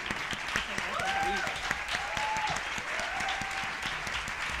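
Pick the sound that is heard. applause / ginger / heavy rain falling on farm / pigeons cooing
applause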